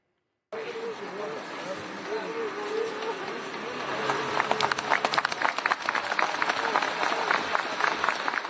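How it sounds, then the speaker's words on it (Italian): Crowd applause breaks out as Italian firefighters carry a young survivor out of earthquake rubble in Turkey, starting after a voice speaks over ambient noise and swelling into loud, scattered outdoor clapping. "L'applauso spezza il silenzio della città fantasma."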